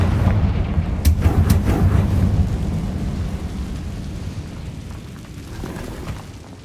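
A Confringo fire spell exploding in Hogwarts Legacy, a deep rumbling blast with a few sharp cracks at the start, the booming roar slowly fading over several seconds.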